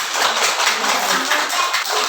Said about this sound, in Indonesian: mari kita tepuk tangan bersama-sama